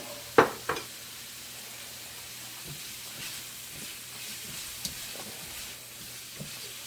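Shrimp and shredded carrots stir-frying in a hot pan give a soft steady sizzle and hiss, broken by a few sharp clanks of utensil against pan near the start and scattered light stirring taps.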